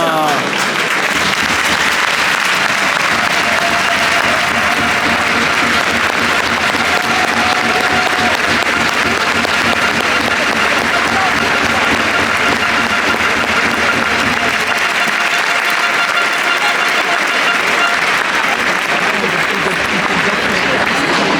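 Hockey supporters in an indoor arena applaud loudly and steadily for the whole stretch, a dense wash of clapping with crowd noise, easing briefly near the end before continuing.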